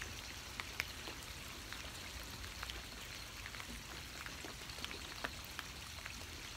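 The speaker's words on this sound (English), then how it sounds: "Feel the energy of rain, the image of cleansing water washing over you." Steady rain pattering on a surface, with scattered individual drops ticking through a constant soft hiss, fairly faint and even throughout with no voices.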